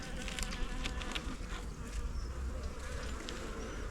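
Honey bees buzz densely and continuously around an open hive during an inspection, a close, steady drone with small swells in loudness.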